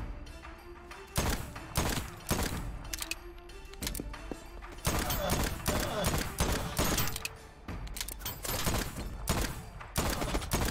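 Repeated gunfire from the Voidtrain video game, bursts of shots cracking every second or so across the whole stretch, loud and close, with talk mixed in between the volleys.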